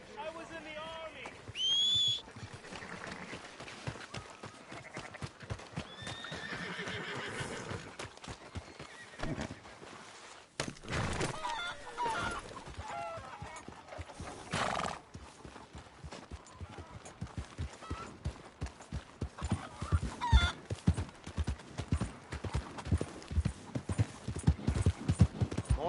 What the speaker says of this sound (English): That's a fine horse you got there.